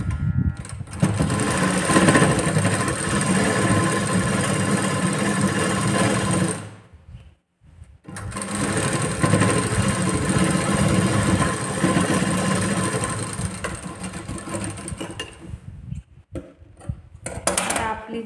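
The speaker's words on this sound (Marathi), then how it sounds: "जी आपली लाईन तयार झालेली आहे सरळ सरळ त्याच्यावरती एक शिलाई करून घ्यायची" A sewing machine stitching a straight seam on a blouse runs in a loud, steady, close mechanical whir. It stops briefly midway, then runs again and fades near the end.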